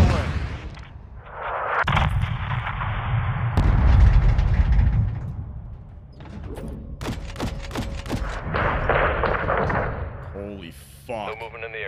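Artillery barrage in the Modern Warfare 2 campaign: heavy booming blasts and rolling thuds, loud and close, followed by sharper cracks and a burst of rapid gunfire, with radio-style voices talking between impacts.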